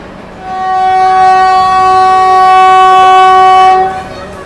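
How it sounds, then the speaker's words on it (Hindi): A New Delhi–Howrah Rajdhani Express train sounds one long, steady departure horn blast, loud and close, over a low rumble of the railway. "डिपार्चर हॉर्न हमारा हो चुका है यहाँ से"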